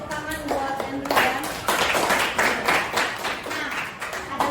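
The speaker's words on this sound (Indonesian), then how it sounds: "tepuk tangan buat Andrew ya." Classroom applause from a group of students, moderately loud with uneven clapping, while voices talk and call out over it throughout.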